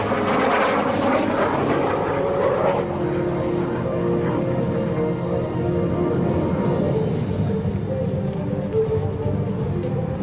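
Lockheed T-33 Shooting Star jet at the NAS Patuxent River air show, a loud, sustained broadband engine roar that rises and shifts around three seconds in, then holds steady as the jet passes.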